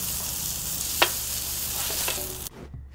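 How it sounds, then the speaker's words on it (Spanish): Burger meat sizzles loudly on a flat griddle as it is smashed down to caramelize, a dense steady hiss with a couple of spatula scrapes before it cuts off abruptly. "Aquí mismo se aplastan para que la carne se caramelice en la plancha."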